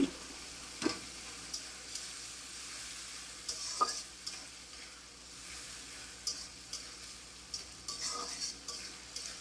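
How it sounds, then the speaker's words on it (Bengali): Raw shrimp stir-frying in a pan, a soft continuous sizzle broken by repeated spoon scrapes and clinks against the pan, close and fairly quiet, with no talking. "এটাকে আমি ভালো করে কষিয়ে নেব এর ভিতরে দিয়ে দিলাম কাঁচা চিংড়ি"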